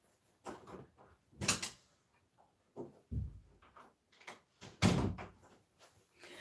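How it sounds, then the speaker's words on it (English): A household door bangs shut with several sharp thuds and clunks spaced irregularly, close by and fairly loud against a quiet room. "Don't slam the door."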